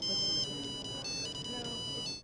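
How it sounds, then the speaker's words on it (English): A downloaded song plays as a cell phone ringtone around 2000, a bright electronic melody of repeated beeping notes that stops abruptly at the end. "download your favorite song as a cell phone ring."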